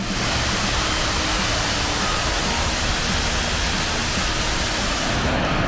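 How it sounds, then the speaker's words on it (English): Steady, dense roar of rushing water at Wapta Falls in Yoho National Park, a continuous broadband wash holding even loudness throughout with no voices. "Let's just listen to that water flow."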